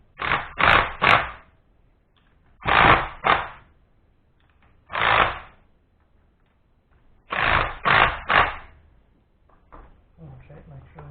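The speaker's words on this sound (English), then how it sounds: "I'm going to get my socket here, and I'm going to tighten these wrists a little way up" A socket ratchet tightens the bolts on a rear differential while its backlash is being set, making close, rough ratcheting bursts in groups of two or three with short pauses between them.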